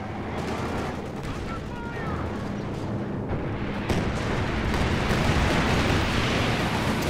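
P-47 aircraft attacks in Company of Heroes 2 hitting a Panzer IV, a loud dense barrage of gunfire and explosions building into a continuous roar, with a voice talking over it.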